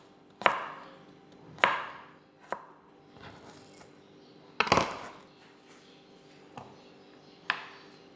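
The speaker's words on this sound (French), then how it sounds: "on coupe notre pomme" An apple being chopped with a knife on a board for apple porridge, about seven sharp, separate cuts at an uneven pace, close and fairly loud, with no talking.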